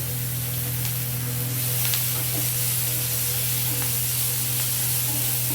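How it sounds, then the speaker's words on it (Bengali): Onions fry in oil left over from frying fish, producing a steady, dense hiss and sizzle with a low hum beneath it, constant and unbroken, with no speech. "আমি এই পেঁয়াজগুলো একটু ভেজে নিচ্ছি,"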